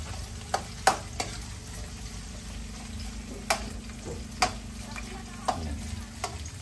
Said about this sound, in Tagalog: Gigisa-gisahin lang muna natin